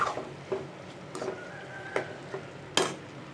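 Plantain pieces being stirred into fried tomato and onion in a pan for Chettinad banana fry, with a handful of separate scraping and clinking stir strokes over a soft, faint sizzle.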